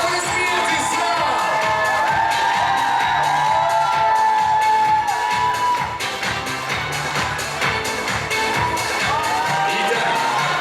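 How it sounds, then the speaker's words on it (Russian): A hall audience at a Miss and Mister university pageant breaks into loud, sustained applause mixed with cheers and whoops. The crowd noise stays dense and steady for several seconds with music playing under it. "Громкие аплодисменты, зал!"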